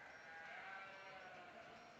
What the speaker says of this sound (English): Big pretty sheep moves up into place